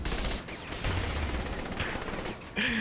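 Explosions and bursts of fire from EMP grenades being thrown in the video game Saints Row, a dense rolling barrage of blasts and gunfire heard up close with no talking.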